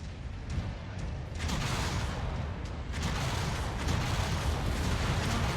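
Mech destruction in MechWarrior 5: Mercenaries, a dense rumbling roar of blasts and crackling debris with sharp bursts, building and staying loud throughout.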